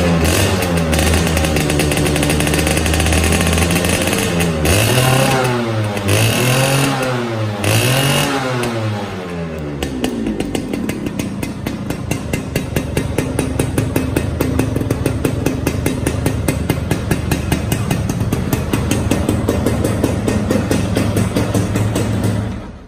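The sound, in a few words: Suzuki Satria motorcycle engine revving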